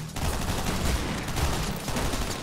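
Rapid bursts of gunfire crackle through a top-down roguelike shooter game, a dense, continuous volley of shots at moderate level with no talking.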